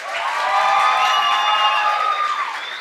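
An audience at a regional oratory contest in Darién province, Panama, greets a student speaker with sustained cheering and high whoops over a bed of applause, loud and continuous throughout.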